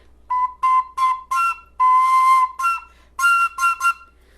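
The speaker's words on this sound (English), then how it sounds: "It gets that kind of overblown squeal." A shrill, overblown flutophone squeal sounds in a string of short, loud bursts, one held a little longer, up close and with nothing else behind it.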